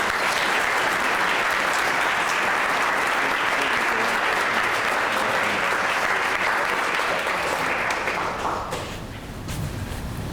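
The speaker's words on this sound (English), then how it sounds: "Let's have another round of applause for all of the awards." Guests at a 25th anniversary scouting dinner give a full, continuous round of applause for the awards, a thick wash of clapping that holds strong then tapers off in the last couple of seconds.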